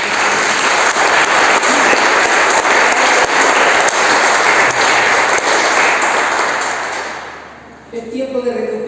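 A church congregation breaks into loud, sustained applause filling the hall, continuing strongly for several seconds before tapering off near the end as a voice resumes.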